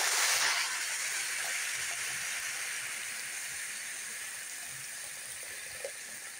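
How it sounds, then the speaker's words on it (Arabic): Boiling water poured onto rice and vermicelli stir-fried in ghee, giving a steady broad hiss and sizzle that starts loud and slowly fades across the pour, close by with no talking. "وهحط ميه مغليه."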